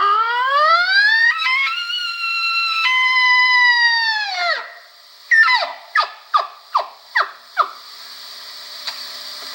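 A man imitates a bull elk search call with his voice, blowing through a tube: a long rising and wavering whistle-like bugle, then a string of short, sharp grunting chirps spaced about a half second apart.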